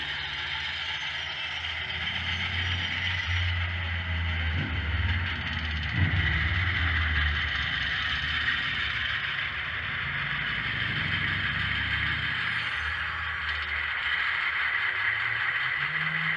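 A newly bought model train locomotive runs with a steady, continuous mechanical whirr and low motor hum, fairly close and even in level throughout, with no talking.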